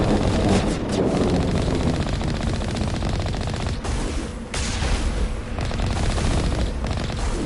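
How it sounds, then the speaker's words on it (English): Heavy cannon and gunfire from the Mako vehicle in the Mass Effect video game, a sustained loud barrage of rapid shots and booms with only brief dips in intensity. "I like that shooting things with the, like, cannon"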